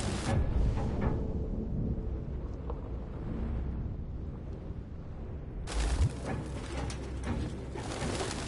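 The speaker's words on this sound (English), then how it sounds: "Goddamn fucking pigeons!" Pigeons coo in the video game Detroit Become Human, soft calls under a noisy backdrop, with a sudden burst of fluttering wings at the start and again near the end.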